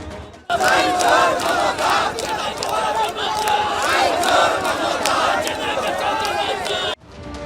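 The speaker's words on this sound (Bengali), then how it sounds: "মিছিল থেকে ওঠে মুহুর্মুহু স্লোগান" BJP supporters marching in a Kolkata rally chant slogans in loud, rhythmic unison, the massed shouting rising and falling over several seconds before cutting off.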